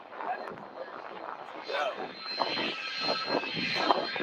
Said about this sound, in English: this is the Airbus A300 that was able to take off from Manchester